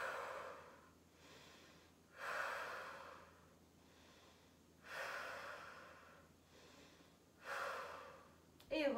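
Slow, deliberate breaths during a Pilates plank-style hold, four long exhales spaced a couple of seconds apart, close and fairly quiet, each rising and fading, with a short sharp sound at the very end.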